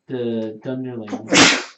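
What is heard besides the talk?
sneeze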